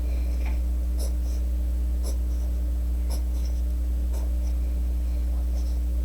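Pencil scratching across paper in a few short strokes roughly once a second, close and moderately loud over a steady low electrical hum, with no speech.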